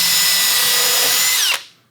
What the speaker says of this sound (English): Then I just double check my squareness and pre-drill